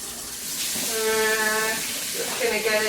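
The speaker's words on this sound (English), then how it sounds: "this water that I wash my hands in is actually a pretty" Tap water runs steadily into a sink for hand washing in a home kitchen while making pizza dough, a loud continuous hiss and splash with a tonal ring.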